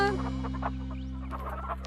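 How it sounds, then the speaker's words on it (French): Cartoon hens clucking over a sustained musical backdrop, a few short clucks scattered through the brief moment. "Les poules nous ont suivis."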